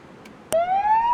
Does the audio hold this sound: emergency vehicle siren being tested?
yes